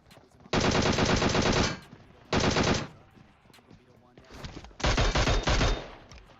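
Automatic gunfire in the battle-royale video game PUBG: three loud, dense bursts of rapid shots, with a fainter stretch of firing before the last and longest burst.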